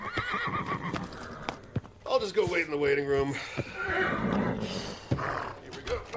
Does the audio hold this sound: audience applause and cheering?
no